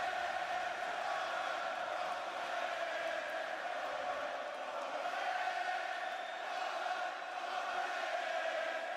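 A large wrestling arena crowd roars during the Roman Reigns acknowledgment ceremony on Raw, a continuous distant wash of cheering and chanting that stays steady throughout.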